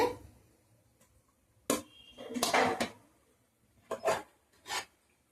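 Cooked rice is scraped and scooped from a pot in several short rasping strokes, metal utensil rubbing against the pot in close, separate bursts with quiet gaps between.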